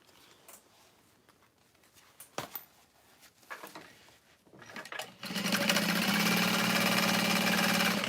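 A sewing machine stitches a bag lining, including back stitching, running as a loud, steady mechanical whir for the last three seconds after quieter handling noises and light clatter.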